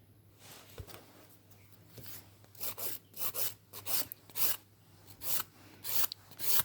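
A nail file rasps the top coat off fingernails in short, close strokes, starting faint and sparse, then quickening into a regular run of scratchy bursts.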